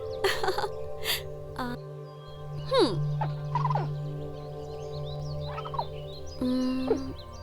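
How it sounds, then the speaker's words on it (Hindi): Turkeys gobble back and forth, several rapid rattling calls answering each other over a steady low hum, loud and close, with brief gaps between the exchanges. "वो दोनों चिड़िया एक दूसरे से क्या बात कर रही हैं"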